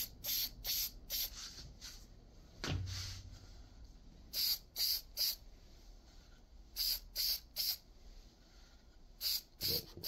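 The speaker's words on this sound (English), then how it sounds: "so I'm going to respray it" Short bursts of spray coating hiss repeatedly onto a restored iron meteorite, in close, evenly spaced puffs with brief gaps between them, plus a duller bump near the start.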